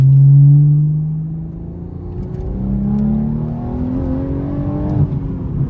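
A 440 hp BMW M240i with a B58 engine accelerates at full throttle, its loud cabin drone rising through the revs in two sweeping pulls, with a gearshift dip between them.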